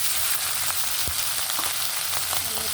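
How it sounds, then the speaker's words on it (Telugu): Okra is frying in a pan for an okra and tomato curry. It gives a loud, steady sizzle with a few faint clinks of stirring, and no talk. "బెండకాయ టమాటా కూరకి మళ్ళీ బెండకాయలు ఫ్రై చేస్తాను"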